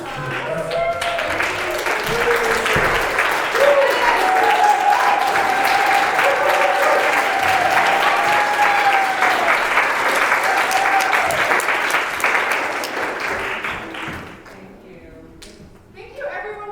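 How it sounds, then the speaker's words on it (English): Sustained audience applause for middle school actors after a theater performance, dense steady clapping with some cheering that fades out near the end. "we would really like to give you a big round of applause"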